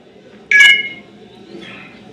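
A phone's charging-start chime sounds once, a bright, loud electronic tone with a short echo-like tail, followed by a fainter second tone over a quiet room hum.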